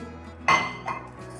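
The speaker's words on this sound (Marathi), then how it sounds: "मिक्सरच्या भांड्याचे झाकण लावून घेते।" A single clear clatter of a lid being set onto a metal mixer jar holding cashews, almonds and milk, followed by a softer knock a moment later, in a quiet kitchen.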